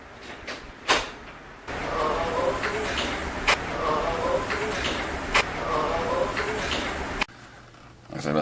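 A door creaks open while people head outside at Hill House Manor, caught on a voice recorder as a long, noisy stretch with scattered clicks and knocks, bracketed by quieter moments.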